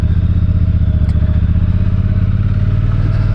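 A Triumph Thunderbird 1600 cruiser with its stock exhaust rumbles steadily at cruising speed, a loud, close, even low-pitched engine drone with a pulsing beat and no talk.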